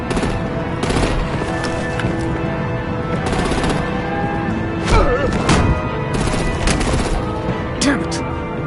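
Heavy rapid gunfire and artillery bursts in Batman: The Enemy Within, loud sustained volleys with thuds and crashes, under shouted voices and a dense action mix.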